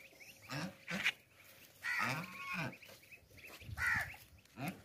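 Repeated harsh, nasal quacking calls from birds nearby, coming in bursts with short pauses between them, loud and close.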